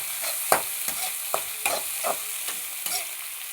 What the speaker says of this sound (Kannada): 1 ಸ್ಟಾರ್ ಎನ್ಸ್, ಸ್ವಲ್ಪ ಜಾವತ್ರಿ, ಅರ್ಧ ಈರುಳ್ಳಿ. ಈಗ ಇದನ್ನು ಬೇಯಿಸ್ಕೊಳ್ಳೋಣ.